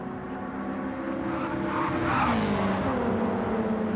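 Toyota Supra and Subaru Impreza WRX racing engines in Gran Turismo 7 at a DTM race, loud steady engine drone that rises in pitch and swells midway as a car revs and accelerates.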